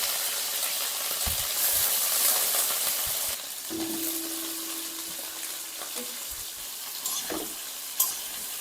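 Cauliflower, pumpkin and potato frying in oil in a wok, a dense close sizzle with occasional stirring scrapes and a sharp knock near the end.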